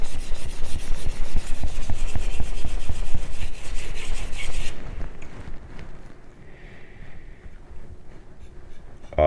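A Kyoshi Kato kitchen knife is drawn over a wet whetstone in steady, close rasping strokes that continue for several seconds, then the grinding drops away and only a quiet room remains.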